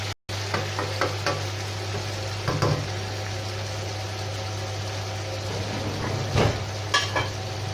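Mushrooms fry in a pan for chorizo pasta, a soft steady sizzle under a constant low hum, with a few utensil knocks and scrapes against the pan.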